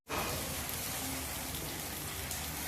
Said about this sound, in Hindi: बारिश भी आ गई, ओले भी आ गए